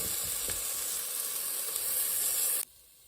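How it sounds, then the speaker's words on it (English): Water poured into a hot pan of sizzling spices and onions for a chickpea and lentil coconut curry gives a loud, steady hiss of steam and spatter that cuts off abruptly near the end. "I'm going to put a little bit of water in there to loosen up the spices"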